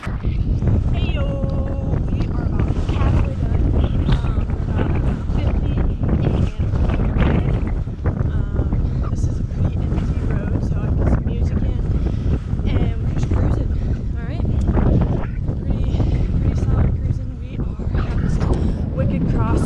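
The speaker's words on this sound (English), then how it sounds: "Crosswind, it is going to the right." Strong crosswind buffeting the microphone while cycling across North Dakota, a loud continuous roaring rumble with gusty swells that runs the whole stretch and buries everything else.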